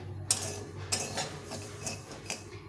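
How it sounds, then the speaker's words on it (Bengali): A spoon scrapes and clinks against a pan as semolina is stirred and lightly fried for upma, giving irregular metallic taps over a steady low sizzle, close and fairly quiet. "খুব বেশি লাল করে ভাজলে ভালো লাগবে না, একটু হালকা করে ভেজে নিতে হবে।"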